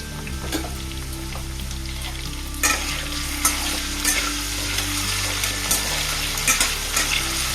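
Potatoes frying in oil in a pan give a steady, close sizzle, with occasional scraping taps as they are stirred; no voices.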